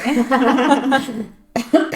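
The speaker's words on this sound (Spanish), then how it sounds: "tengo un poco de tos hoy, perdón" A voice murmurs briefly, then a short, sharp cough follows, close to the microphone.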